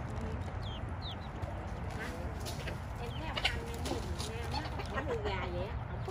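Farm chickens raised for a living in the United States cluck and chatter in soft, irregular bursts at close to middle distance, with low human voices murmuring underneath.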